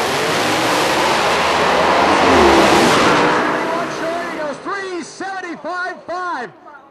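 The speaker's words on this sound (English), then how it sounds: "So Keith Haney, of course, the nitrous car, like I said, wants to put Jackson and make him go bye-bye." A nitrous drag racing car makes a loud run at a drag strip, a broad engine roar rising then fading away while an announcer's voice calls the race over it.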